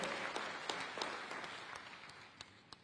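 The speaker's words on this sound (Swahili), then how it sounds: "Na tumpigie makofi sana Mheshimiwa Waziri kuwa hapa leo" A crowd applauds at a distance at a 2023 international mining investment conference in Tanzania, a steady patter of many hands with a few sharper claps standing out as it slowly fades.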